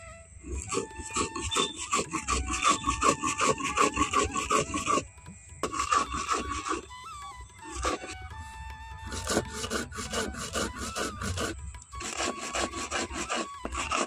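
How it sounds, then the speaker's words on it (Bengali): A spice paste is ground by hand on a flat stone slab with a stone roller, producing steady rhythmic rasping strokes close up, with short pauses between runs of grinding. "এটা আমি শিলনোড়াইতে বেটে নিচ্ছি, তোমরা চাইলে কিন্তু মিক্সিতেও পেস্ট করে নিতে পারো।"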